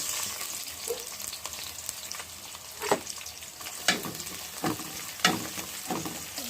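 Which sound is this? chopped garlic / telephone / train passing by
chopped garlic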